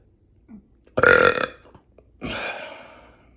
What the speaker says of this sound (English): I just drank a bunch of energy drinks and the carbonation's coming up